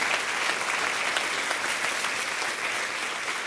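A church congregation applauds loudly, dense steady clapping that fills the room and holds at an even level throughout, with no speech over it.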